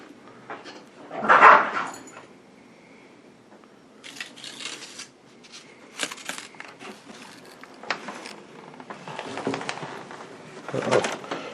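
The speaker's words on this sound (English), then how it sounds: "Doggy drama. We have a guest this weekend. It's my sister's dog, Nikki" Two dogs, one a weekend visitor, scuffle and whimper indoors, with a sharp yelp, scrabbling bursts and soft whines coming and going over several seconds.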